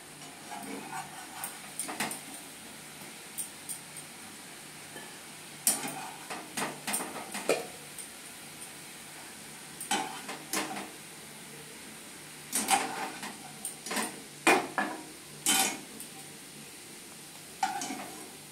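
Boiled pointed gourd (potol) being strained in a pot in a home kitchen, with scattered clattering knocks and scraping bursts throughout, close and fairly loud.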